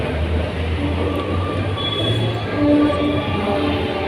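A Pune metro train near Swargate station rumbles loudly and steadily, with low droning tones and faint squealing wheels running throughout.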